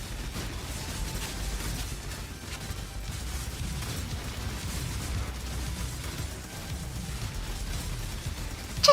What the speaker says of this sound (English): All those explosions.